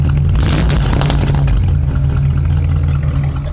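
A Bentley car's engine burbles loudly and close, a dense low rumble with rapid choppy exhaust pops, heard alone without talk.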